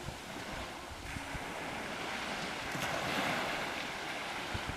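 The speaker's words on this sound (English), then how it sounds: "it's just a beautiful little slice of beach over here" Ocean waves wash onto a small, secluded beach in a steady, low surf wash mixed with wind rumble on the microphone, soft and distant-sounding, with a slightly stronger swell in the middle and no talking.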